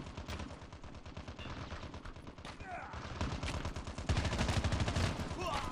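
Dense, continuous gunfire from a Call of Duty Mobile match, rapid automatic bursts running nonstop and growing louder and more crowded toward the end, with no talk over it.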